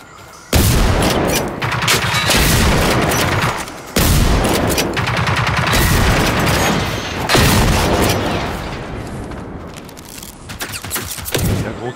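Heavy automatic gunfire in a cooperative multiplayer shooter, long loud sustained bursts with brief pauses between them, booming and close, tapering into scattered shots at the end.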